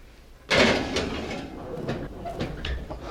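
A pot of braised pork carnitas slides into a home oven set to 250 degrees, opening with a sudden loud clatter and scrape of metal on the rack, then a continuing rumble and shuffle as it settles.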